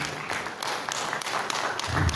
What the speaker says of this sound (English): Please clap your hands for him.